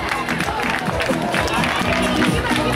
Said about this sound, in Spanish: Fuertes aplausos para Isabel Pascua también en tercera.